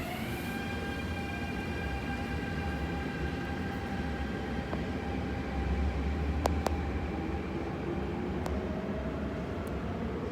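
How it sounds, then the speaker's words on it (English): A metro train bound for Hong Kong rolls into Kowloon Station behind platform doors with a steady whine and rumble, a few sharp clicks and squeals as it slows. "前往香港的列車即將到達。"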